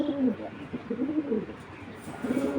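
Racer pigeons coo in low, rolling phrases close by, with a pause in the middle before another burst of cooing near the end.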